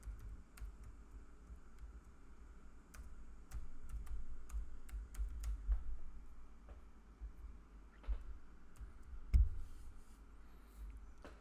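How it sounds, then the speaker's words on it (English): Steady typing on a computer keyboard, with soft irregular key clicks and a few louder taps over a low room hum, close by and with no talking. "I know I'm typing a lot of stuff here."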